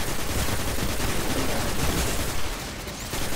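Dense gunfire in the Destiny video game crackles as a sustained, loud burst of rapid shots that fills the whole clip, easing off slightly near the end, with no talking.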